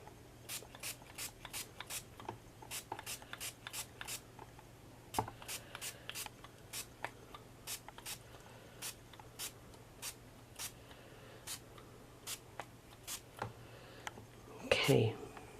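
Short hissing bursts of orange aerosol spray paint on a Halloween pumpkin repeat in a quick, irregular rhythm, with a faint voice and some rustling near the end.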